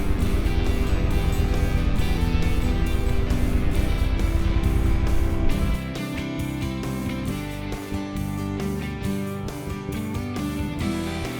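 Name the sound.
strong crosswind while riding a motorcycle in Death Valley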